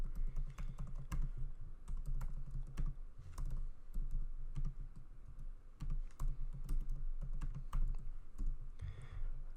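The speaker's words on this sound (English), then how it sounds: "I'm going to type that in." Keys clatter steadily on a computer keyboard as text is typed in during mobile UI design work, a close, continuous run of clicks with short pauses and no talk.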